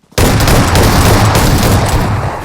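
Sustained automatic gunfire in the BGMI (Battlegrounds Mobile India) battle royale game during a tournament match, a loud dense burst of rapid shots running continuously without pause.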